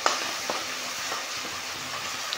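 Ginger paste frying for brinjal masala, a steady close sizzle of oil with faint stirring scrapes and a couple of light utensil taps, no voices.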